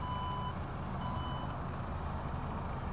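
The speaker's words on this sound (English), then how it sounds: "Power tailgate is standard." Porsche Macan power tailgate sounding two evenly spaced electronic warning beeps, each about half a second long, over a steady low outdoor rumble with no talk.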